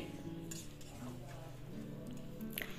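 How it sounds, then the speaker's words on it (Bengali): Duck meat is stirred into a cooked spice paste for a red duck curry, giving faint scraping and light clinks of a utensil against the pan, soft and close. "মাংসটা দিয়ে দেওয়ার পর এটাকে খুব ভালোভাবে নেড়ে চেড়ে নিতে হবে"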